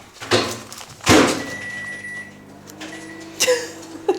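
A Kmart microwave oven in a home kitchen: its door clunks open and shut with sharp clicks, and a steady hum runs in between. No voices are heard.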